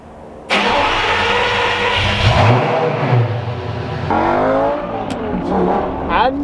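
A car engine revs loudly and close, rising and falling through several throttle blips with a deep mid-range growl, alone with no talk.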